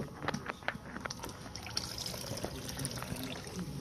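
A thin trickle of water runs from a rocket stove hot water setup, a close, soft splashing and dribbling with small irregular drips and gurgles, heard alone.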